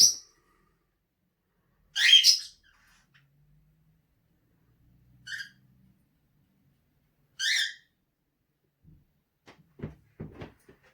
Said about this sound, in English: it's not the GameZone Birdroom without the birds